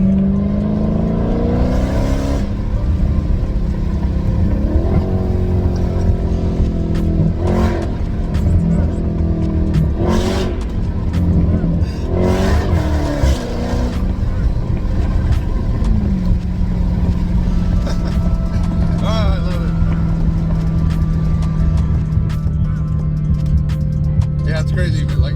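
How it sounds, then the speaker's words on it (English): A Toyota MR2 is heard from inside the cabin, accelerating hard with a loud droning engine that rises in pitch through several gear changes, sharp exhaust pops between pulls and voices talking underneath. "when I get that cold air, I just gas it, let go, gas it, and just pop, pop, pop, and it just zooms"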